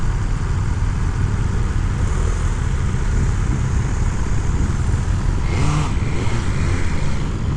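A 2023 BMW S1000R motorcycle on a test ride along an Atlantic coast road, its engine and wind noise forming a continuous, even roar with a brief rising whine partway through.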